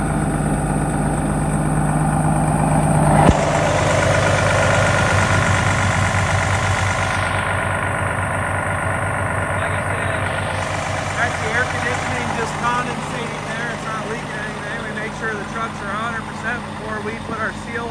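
A 2011 Freightliner M2 tandem truck with an IMT knuckleboom and winch idles steadily and close by, a continuous low diesel drone that stays even throughout while the boom is swung around.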